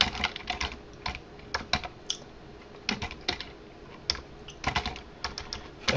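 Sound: typing on a computer keyboard

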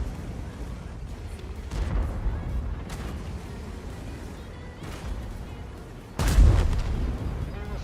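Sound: tank cannon firing in video game

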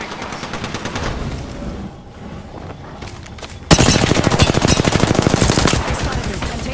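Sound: gunfire in the video game Apex Legends

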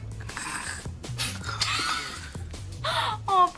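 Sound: person imitating snoring

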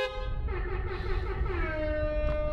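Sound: Tesla Model S Plaid custom horn sound

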